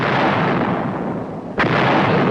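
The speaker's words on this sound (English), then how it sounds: "Artillery's ready. Explosives to Communist Korea." US heavy artillery fires in Korea: a loud, roaring rumble of gunfire fills the clip, with one sharp blast cutting through near the end, no voices.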